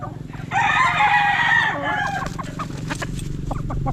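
A gamefowl rooster, kept as breeding stock, lets out one loud, close crow lasting over a second, followed by softer clucking and farmyard noise.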